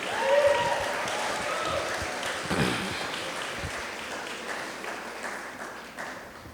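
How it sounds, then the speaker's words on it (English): Audience applause for the Teaneck singers at a historic marker unveiling in Teaneck, New Jersey, an even outdoor patter of clapping that peaks early, then slowly thins and fades. "Please, let's give them another round of applause."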